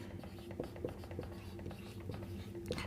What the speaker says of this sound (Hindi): हम यहां पर लिखेंगे